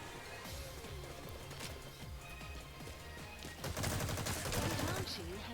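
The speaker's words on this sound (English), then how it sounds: "This dude spams the grenades hoping for a kill." Repeated grenade blasts and gunfire crackle through a Metal Gear Online multiplayer match, dense and rapid, swelling louder near the end amid a busy battlefield din.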